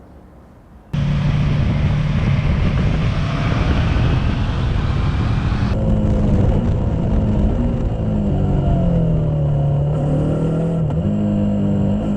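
Riding engine sound from a Yamaha R3 or Kawasaki Ninja 400 motorcycle: a steady, loud, close engine drone that starts abruptly after a quiet second, with pitch shifting as the revs change, and no talk.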